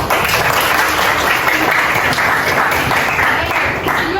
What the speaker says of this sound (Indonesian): Beri tepuk tangan dulu untuk Bastian.